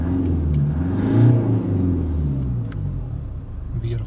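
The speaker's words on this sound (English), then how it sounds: "let's see what kind of noise this engine produces" A 2015 Toyota Land Cruiser Prado diesel engine revs up to a rumbling peak and then settles back to a steady idle, heard close and loud with no one talking.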